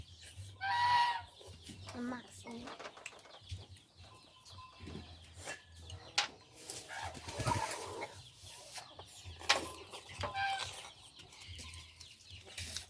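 Chickens cluck intermittently at moderate distance, with short scattered calls and a louder burst here and there, amid faint background sounds and occasional murmuring.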